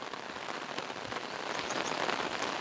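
Steady rain falling on surfaces in a Konkan village, a dense continuous hiss with scattered close drops, moderately loud and without any voices.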